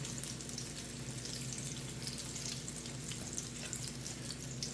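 Apple fritters fry in hot oil, a dense, continuous sizzling crackle heard up close at an even level throughout, with no voices over it.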